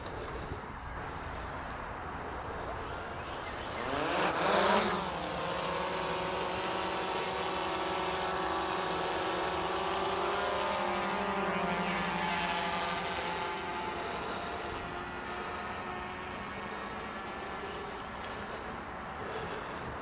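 A Parrot Anafi UKR drone hovers about 150 feet directly overhead in the early morning, giving a steady, faint, even motor hum with a brief louder swell near the start and birdsong in the background.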